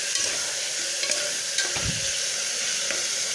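Ginger-garlic paste fries in a pan with a loud, steady sizzle. A spatula scrapes and stirs now and then, with one fuller thump near the middle.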